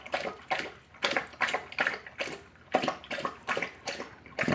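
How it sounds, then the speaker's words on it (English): A pet laps noisily from its water dish nearby, a rhythmic series of wet slurping gulps, about a dozen evenly spaced, with no talking. "now is the perfect time to come over here and guzzle out of his water dish and make himself heard"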